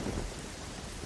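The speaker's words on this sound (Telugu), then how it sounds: "వర్షం కూడా పడుతున్నట్టుంది" Steady rain falling, a dense even hiss close by with low rumbling underneath, continuous and alone with no voices.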